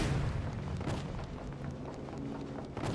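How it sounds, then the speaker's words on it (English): Explosions in the game Genshin Impact rumble in a continuous deep roar of booms and bursts, loud and dense for the whole stretch with no voices. "Shit's exploding now."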